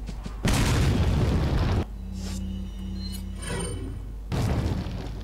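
A grenade goes off in Resident Evil 4 with a loud, booming blast that lasts over a second and settles into low rumbling debris, then a second heavy burst follows near the end.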